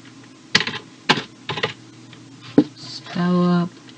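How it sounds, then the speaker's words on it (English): Short bursts of typing on a computer keyboard while spelling out a word, separated by pauses, followed by a brief steady electronic tone near the end. "Just typing it in."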